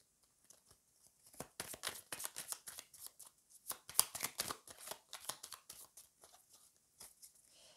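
Oracle cards being shuffled by hand during a tarot-style reading, a steady run of papery riffles and flicks, moderately close and fairly quiet, with no talking over them.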